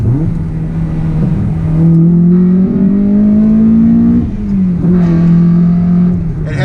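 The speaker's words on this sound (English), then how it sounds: "the H series is still a very formidable power plant, and I just love the sound." A Honda H-series engine in a CL1 Accord Euro R revs up and down twice, rising to a strained whine and falling back, loud and close with a deep induction growl.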